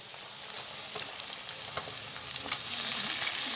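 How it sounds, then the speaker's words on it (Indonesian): Sauce poured into a hot frying pan while cooking egg fried rice, with steady broadband sizzling that swells and grows louder near the end, punctuated by faint stirring clicks; no voices. "Bisa langsung kita masukkan sausnya"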